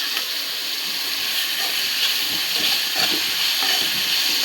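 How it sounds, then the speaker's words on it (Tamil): Vegetables sautéing with salt in a hot pan, a steady loud hiss and sizzle that runs continuously with no talking over it. "நல்லா வதக்கிடலாம்."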